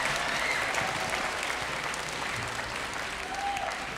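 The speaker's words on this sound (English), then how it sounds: "Should we give them a round of applause?" Audience applause for the string section at a youth orchestra concert, a continuous, even roar of many hands clapping throughout, slowly easing off slightly toward the end, with no voices over it.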